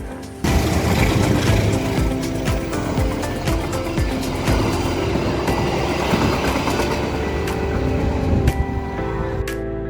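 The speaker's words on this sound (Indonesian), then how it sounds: "Setiap kita melihat kereta api melintas kencang di sini" A train passes fast close by at a station near the Glenmore estate in East Java, Indonesia: a loud continuous roar with clattering wheels and metallic clicks that stays heavy throughout before easing slightly at the end.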